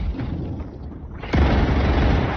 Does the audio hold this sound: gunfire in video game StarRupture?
yes